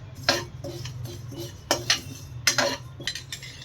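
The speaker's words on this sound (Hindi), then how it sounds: "इनको हम लो टू मीडियम फ्लेम पर हल्का हल्का भून लेंगे।" Sesame and poppy seeds dry-roasting in a kadhai over a low to medium flame with no ghee, a metal spatula scraping and clinking against the pan in repeated strokes over a low steady hum.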